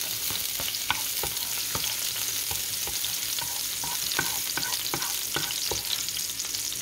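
Garlic fries in oil in a pan for chicken, a steady broadband sizzle with repeated sharp clinks and scrapes of a utensil stirring against the pan, close and continuous with no talking.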